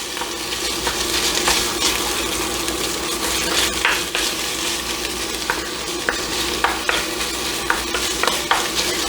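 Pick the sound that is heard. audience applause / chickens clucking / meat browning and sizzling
meat browning and sizzling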